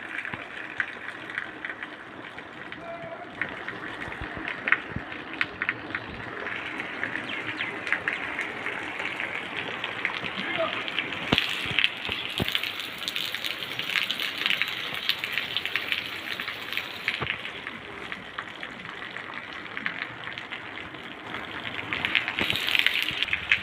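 Steady rain falls and patters on surfaces, with scattered sharper drops and taps. It stays fairly quiet and continuous throughout, with no voices.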